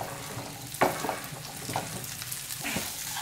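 Cut okra stir-fried with turmeric in a pan makes a soft, continuous sizzle, with a few sharp scraping and stirring knocks from the spatula.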